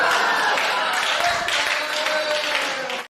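An audience at a Hindi comedy poetry show applauds with dense, steady clapping that fills the room, then cuts off abruptly.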